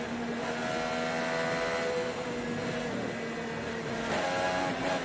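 IndyCar engine at the 2025 Indy 500 heard from onboard, a continuous loud whining drone with shifting pitch as the driver works through the gears, steady and close with no voices.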